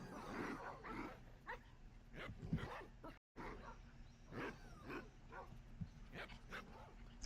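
Minecraft wolves bark and yip in a group, several short barks scattered across the clip, faint and mixed with game ambience and a brief dropout.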